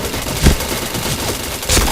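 Gunfire from the video game Point Blank: a steady rattle of shots with two louder bursts, one early and one near the end, heard without talk.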